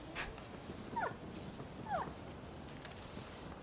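A dog whimpers in the Rise of the Ronin game, giving two or three brief, high, soft whines over a quiet ambient background.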